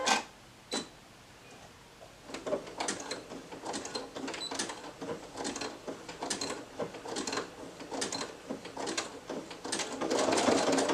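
A sewing machine stitches a fabric headband, running in bursts of rapid mechanical clatter after a couple of isolated clicks, close and steady with no talk.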